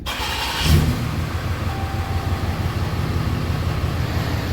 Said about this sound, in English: let's get it fired up